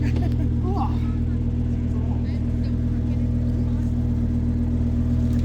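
Lamborghini engine held at a loud, steady rumbling drone close by, with a slight lift at the start, while a voice speaks faintly beneath it.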